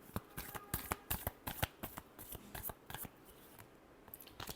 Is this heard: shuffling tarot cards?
yes